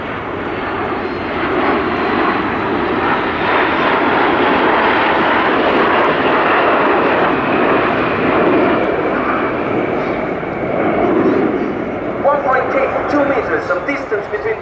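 A Frecce Tricolori Aermacchi MB-339 aerobatic jet roars past low and loud at an air show, its engine noise sustained and rushing throughout before slightly wavering at the end.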